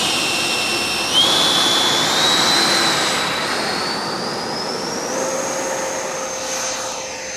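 A Freewing RC jet plane launches and climbs away from a narrow runway, its ducted-fan turbine screaming loudly and steadily, the whine gliding upward in pitch as it flies.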